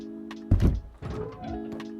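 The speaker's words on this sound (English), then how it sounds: "Throw down your locker and throw down your bed as well." A locker and bed placed down in the video game Rust, two solid thunks about half a second apart over a steady background hum.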